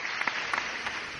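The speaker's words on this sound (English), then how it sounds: "Please give yourselves a round of applause." Brief burst of audience applause at an awards gala, a dense wash of clapping with a few sharper claps standing out, short and moderately loud.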